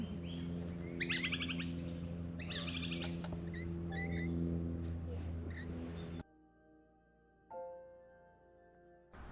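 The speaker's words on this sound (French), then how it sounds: "les perroquets ici sont les pigeons" Parrots calling in Australia among hibiscus shrubs, bursts of loud chirps and squawks over a steady background hum, fairly close, followed by a quieter stretch with a single tonal call.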